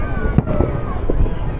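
Fireworks burst during an Eid family outing in Saudi Arabia, a few sharp pops and crackles standing out over a steady background of voices and crowd chatter.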